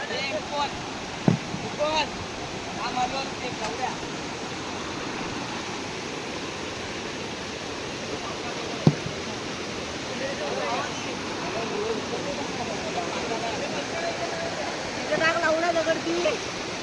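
Stream water runs steadily at a village river as boys pile stones to dam it, a continuous broadband wash with a few sharp knocks and splashes scattered through it and faint voices in the distance.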